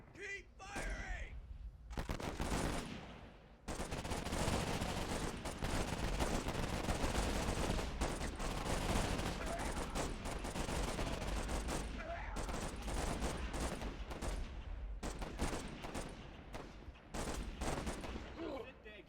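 Dense, sustained gunfire from the WWI and WWII shooter Warfare 1917/1944, with overlapping rifle and machine-gun bursts crackling continuously for most of the stretch, loud and busy, with shouted voices mixed in.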